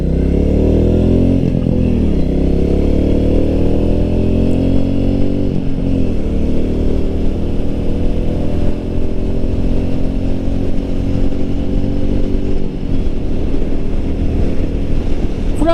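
A Royal Enfield Meteor 350 motorcycle on a ride, its single-cylinder engine thumping loud and close with steady throttle and slight rises and falls in pitch, with wind rush and no talk.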